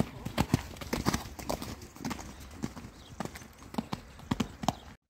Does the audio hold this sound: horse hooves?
yes